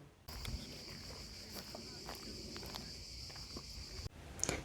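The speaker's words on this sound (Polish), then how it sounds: "Cykady, włoskie cykady dają taki koncert, że zagłuszyłyby absolutnie wszystko." A continuous high-pitched insect buzz of Italian cicadas drones steadily, with a few faint rustles and knocks underneath, then cuts off abruptly near the end.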